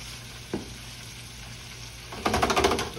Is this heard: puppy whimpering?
no